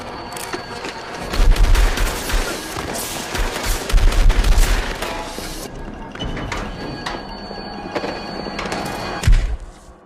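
Gunfire in a film as a protected police witness is shot, a loud close burst of rapid shots and heavy impacts, then quieter rumbling and a final sharp thump.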